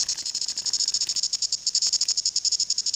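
A New Zealand chorus cicada calls up close in a steady, rapid pulsing buzz, a dense train of bright rhythmic clicks running unbroken from start to finish with no voices.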